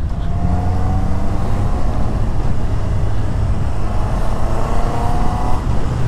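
A 2021 Honda CB650R motorcycle engine hums steadily and smoothly while riding, a continuous loud drone with wind rush throughout and no talk.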